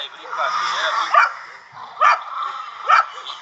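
A dog barks and whines in short bursts, three sharp yips standing out between softer whimpering, close and fairly loud; people talk in Portuguese over it.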